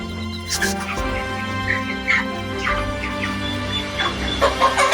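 Several Pakistani-breed chickens clucking and murmuring continuously close by, with occasional sharper calls over a steady background hum.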